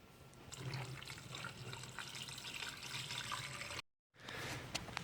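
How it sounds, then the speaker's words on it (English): Water being poured into the engine coolant system of a 2009–2012 Chevy Traverse, a soft steady trickling splash that breaks off briefly near the end before resuming, faint and close. "I'm just going to add water"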